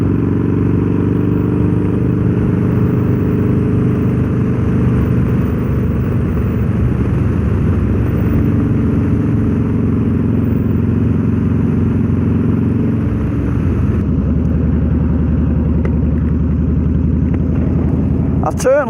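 A Harley-Davidson motorcycle engine rumbles loud and steady on a road, its deep exhaust drone rising and easing as the throttle changes, with riders talking over the engine noise throughout.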